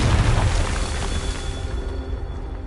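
A blasting-spell explosion in the Hogwarts Legacy video game, a loud, close, deep boom that opens sharply and rumbles down over a few seconds, no talk.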